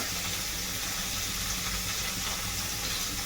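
Eggs frying in hot oil for a desi egg curry give a steady, even sizzle that holds without a break, close and fairly loud, with no voices.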